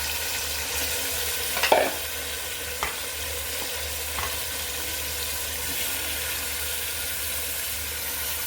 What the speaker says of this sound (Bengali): তাহলে আমি মাংসগুলো দিয়ে দিচ্ছি।